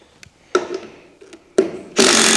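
A power tool driving screws out of a gooseneck trailer deck during Connex coupler fabrication, with several short bursts and ratcheting clicks building to a loud, sustained whine at the end.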